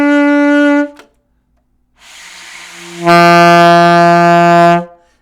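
An alto saxophone plays low D with the back thumb key forgotten: a short buzzy note, a breathy rasping start, then a sustained steady tone held for about two seconds, close and loud, no talking.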